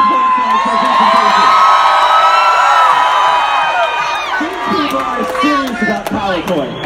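A live concert crowd at Stage AE in Pittsburgh cheers and whoops loudly, a dense sustained roar of voices that thins toward the end with scattered shouts.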